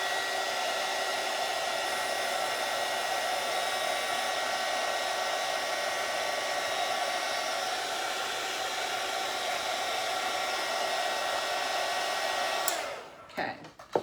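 A heat gun blowing steadily on a butterfly decoration on a growler, a continuous loud airy whoosh with a motor hum that runs unbroken for over twelve seconds before being switched off and winding down.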